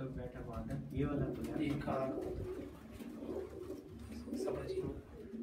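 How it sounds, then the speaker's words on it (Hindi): Large champion flying pigeons give soft, rolling coos close by while someone talks steadily over them. "कौन सा कबूतर बैठा हुआ है ये वाला"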